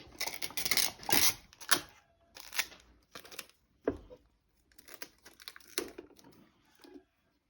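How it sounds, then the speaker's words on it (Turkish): Tape tears and crackles in short bursts as it is stretched and pressed onto the edges of a wooden box being prepared for gluing, close and fairly loud, with no voice. "Şimdi önce şunları bantlayacağım."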